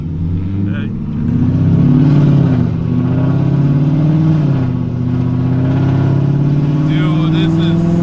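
A 6th-generation Chevrolet Camaro SS fitted with Speed Engineering headers revs loudly up close, a deep rumbling engine note that swells and holds with pitch wobbles across several seconds, and faint voices are present.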